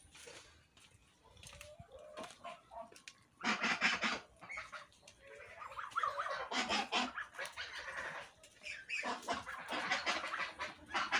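Domestic geese honking and cackling near a farmyard pasture, loud harsh bursts coming in uneven clusters. Faint speech and rustling fill the gaps between calls.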